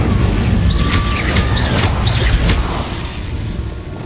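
Casting Incendio, the fire spell in Hogwarts Legacy, produces a dense, loud, roaring burst of flame. Brief whooshing accents ride on top before the roar eases slightly toward the end.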